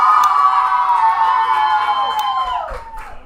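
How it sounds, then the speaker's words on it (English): Spectators at an Atlanta United academy soccer match cheer and shout together in a loud sustained roar that slowly fades over a few seconds, with high whoops riding on top. "Good little crowd here for Atlanta United."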